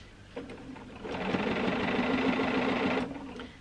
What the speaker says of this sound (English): it's easy for the machine to sew the quilt